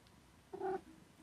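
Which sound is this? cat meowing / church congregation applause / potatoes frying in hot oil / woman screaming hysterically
cat meowing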